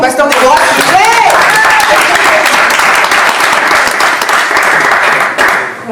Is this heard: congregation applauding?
yes